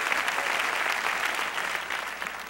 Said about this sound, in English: you can applaud, that's fine